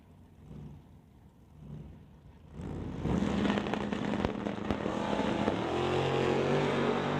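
A 1931 Model A and a 1968 Dodge Dart launch at a drag strip; engines idle quietly, then roar loudly and hold a sustained, distant-to-near race-car drone.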